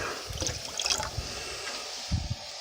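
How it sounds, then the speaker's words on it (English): Water trickles and splashes as it is poured into homemade teriyaki sauce, a light uneven stream with a few soft gurgles and drips near the end. "I'm going to add a little bit more water"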